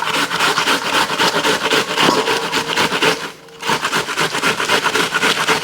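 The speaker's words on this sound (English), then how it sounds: "And now I'm just going to start grinding this down." A hand-cranked grinder works through vegetables for Southern-style coleslaw, giving a loud, steady rasping crunch with a quick rhythmic churn that stops for a moment and then carries on.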